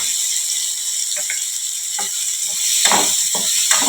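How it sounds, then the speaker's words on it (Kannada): Garlic and ginger fry in a pan with a steady hiss and sizzle, broken by a few brief clicks and stirring scrapes that come closer toward the end. No voices are heard. "ಬೆಳ್ಳುಳ್ಳಿ ಮತ್ತು ಶುಂಠಿ ಎಷ್ಟು ಬೇಕು ಅಷ್ಟೇ ಇದ್ರೊಳಗನ್ನ ಹಾಕೊಂಡು ಫ್ರೈ ಮಾಡ್ಕೊಳ್ಳಿ"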